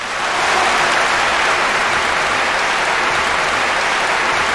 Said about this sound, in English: So a big round of applause for you.